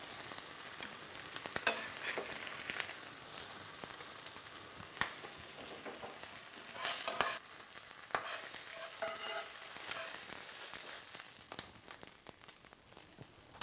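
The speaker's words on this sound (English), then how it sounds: "Corned beef, which is just slightly browned." Corned beef sizzles and fries steadily in a pan, browning, with a continuous crackle broken by occasional louder pops and scrapes as it is stirred and turned, close and moderately loud with no talk.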